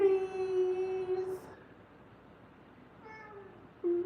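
A cat meows with a long, clear, tonal call up front, then goes quiet before two shorter, softer meows near the end, the last cut off; no talking over it.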